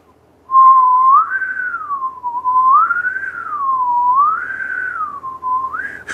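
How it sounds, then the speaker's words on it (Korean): A person whistles alone, close and clear, holding a low note and then gliding up to higher notes and back down in repeated smooth waves. "휘파람을 낮은 음도 하나 내보고 높은 음도 내보고 이렇게 올라갔다 내려갔다 했어요"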